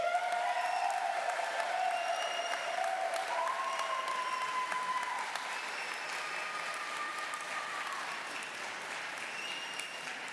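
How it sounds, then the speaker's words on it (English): Sustained applause from a commencement audience honouring philosophy and PPE graduates, a steady even clapping that holds at a moderate level throughout, with no talking over it. "let's give one more round of applause to all the graduates"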